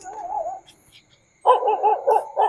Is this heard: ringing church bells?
no